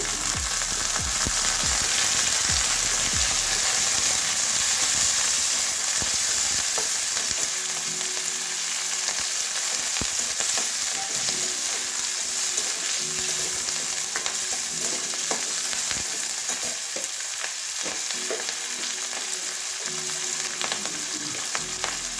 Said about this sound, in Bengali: পেঁয়াজটা একটু ভেজে নিচ্ছি